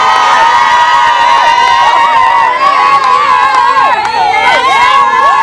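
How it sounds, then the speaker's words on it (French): A loud wedding crowd cheering and shouting excitedly, with high voices whooping and calling over a dense, continuous roar. "Applaudissez pour elle, s'il vous plaît."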